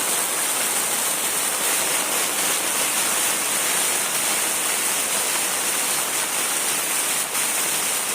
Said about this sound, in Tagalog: Ayun, biglang lakas ng tubig.